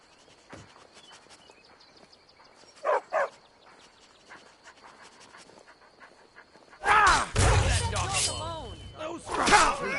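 Dog in the Skyrim video game giving a couple of short barks amid quiet footsteps and ambient sound, then louder game voices and clatter take over toward the end.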